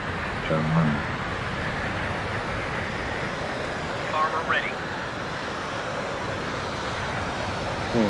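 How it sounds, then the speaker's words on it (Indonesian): Howling wind from the wartime strategy game Company of Heroes 2, set in a snowy winter landscape: a continuous broad whooshing gust that fills the scene, with faint brief tonal bits and a short swell partway through. "Ini ada suara angin, suara ini luar biasa"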